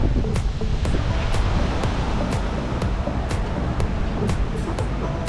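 Waves breaking on a Lake Erie beach at Presque Isle State Park, Pennsylvania: a loud, steady rushing roar of surf and wind, with no pauses and faint sharper ticks scattered through it.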